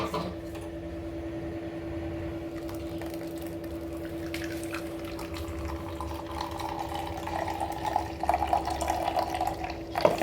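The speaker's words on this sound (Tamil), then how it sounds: "இப்போ தேங்காய் பாலை வடிகட்டி எடுத்துக்குவோம்" Coconut milk, pressed from freshly grated coconut, is strained in a kitchen, with soft trickling and splashing liquid over a steady low background hum. The pouring grows louder and more splashy toward the end.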